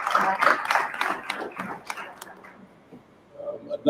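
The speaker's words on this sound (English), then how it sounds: "ask everybody to give a round of applause to the employees for the Village" Audience at a village board meeting breaking into a short burst of clapping, moderately close, fading out within a few seconds, followed by faint murmuring.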